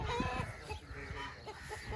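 Colourful farmyard hens and Aseel chickens cluck in short, uneven bursts close by, with a steady murmur of background noise and no talking.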